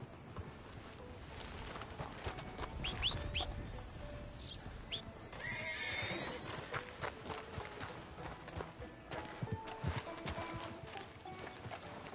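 A horse on a road, steady clip-clop of hooves with an occasional whinny, moderately close and unbroken, no voices.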